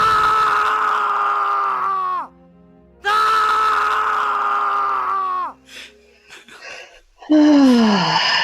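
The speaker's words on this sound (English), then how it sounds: "I love the scream." Two long, loud sustained screams, each held about two seconds and trailing off, followed by brief scattered vocal sounds and a final shorter falling scream-like cry.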